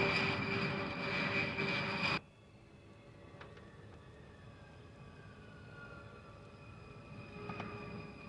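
An airliner cabin fills with a loud, steady engine drone in flight, which cuts off abruptly after about two seconds and leaves a quieter background hum.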